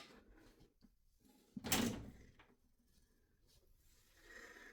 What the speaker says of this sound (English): Let me open the door for these so you can actually see in this one.